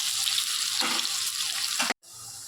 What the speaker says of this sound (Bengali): এবার মিডিয়াম লো ফ্লেমে আমি এই আলুগুলোকে ফ্রাই করব